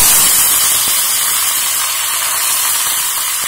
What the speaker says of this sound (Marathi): तर हे जी फोडणीसाठी मोहरी आणि कढीपत्ता घेतलाय तो मी टाकणार आहे याच्यामध्ये.